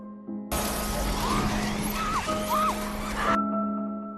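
Glass shatters loudly and close after a hockey puck is thrown at it, a dense crashing burst lasting about three seconds before it cuts off abruptly.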